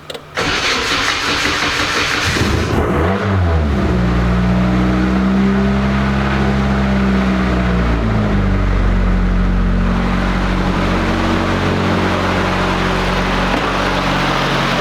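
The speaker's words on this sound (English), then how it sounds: "You'll probably hear the slapping noise when you go to rev it up." A Nissan 240SX with a KA24DET turbo engine on its original, never-rebuilt bottom end cranks and starts, then idles and revs up and down with a faint slapping knock. The engine runs loud and steady throughout, with no talk.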